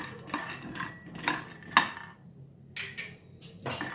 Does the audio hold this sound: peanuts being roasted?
yes